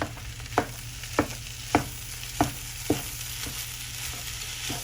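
Spam fried rice tossed in a hot pan, sizzling steadily while a spatula scrapes through it in five evenly spaced strokes, close and fairly quiet with no voices.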